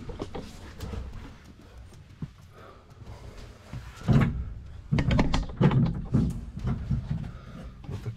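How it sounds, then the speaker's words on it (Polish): Heavy metal door on an abandoned ship being worked open, with scraping, clunking and creaking bursts that grow louder midway, close by, amid footsteps and rustling. "Czy te drzwi są do otwarcia?"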